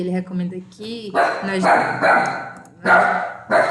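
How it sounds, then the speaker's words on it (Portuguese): A dog gives a few quick, sharp barks at the start, then a person talks over the quiet that follows. "porque meu cachorro, minha cadela latiu"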